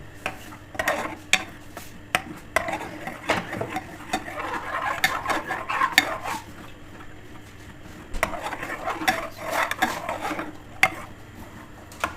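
A spoon mashes and scrapes khoya into milk in a pan for besan barfi, giving irregular soft rubbing and scraping with sharp clinks of metal on the pan throughout.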